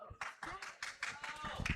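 An excited crowd at the VEX AI Robotics World Championship finals claps in quick, rhythmic bursts, fairly close and lively, with voices mixed in underneath.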